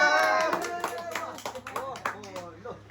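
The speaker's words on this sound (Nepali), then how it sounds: "ताली केटा ताली" Several people clap in scattered, uneven bursts at a gathering welcoming someone home to Nepal, heard close up with lively voices talking over and between the claps.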